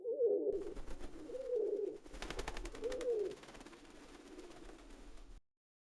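Noisy pigeons coo in three or four soft, throaty phrases, with some wing flutter or clattering in between, faint and unaccompanied by speech.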